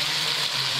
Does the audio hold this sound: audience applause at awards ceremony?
no